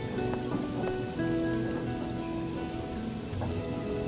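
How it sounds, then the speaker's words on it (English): Nighttime rain falls steadily for a few seconds, an even patter of drops on surfaces, with a faint tonal background underneath and no voices. "It's starting to rain."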